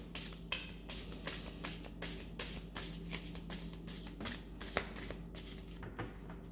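A tarot deck being shuffled, quiet repeated riffling and soft card slaps in an irregular rhythm, close by with no talk and a low steady hum underneath.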